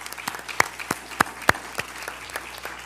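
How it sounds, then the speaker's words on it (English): Applause from an audience at a county board of education meeting, a sparse scattering of distinct claps standing out over the room's hum, fairly close and moderate in level, thinning out toward the end. "How about another round of applause for Michaela Jones of Potomac High School?"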